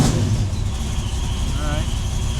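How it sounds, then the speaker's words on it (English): A car engine, freshly rebuilt, revs steadily and fairly loudly at close range for a couple of seconds, with a rough, continuous rumble and voices faintly nearby. "Give it a little bit of a rev."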